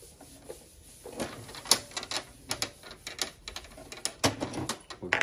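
Mechanical clicks and short clattering bursts from a nearby Canon PIXMA inkjet printer under repair, irregular and moderately loud, with a faint steady hum underneath.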